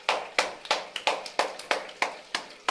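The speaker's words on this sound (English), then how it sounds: "Clap, Layla. Clap." A toddler claps her hands about eight times at a steady, slightly uneven rhythm, close and moderately loud, with no talking over it.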